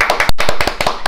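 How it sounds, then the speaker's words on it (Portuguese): Audience clapping on a talk-show stage, sharp, loud claps at close range in a quick, uneven rhythm over about a second, with no speech. "Palmas para o Wilson."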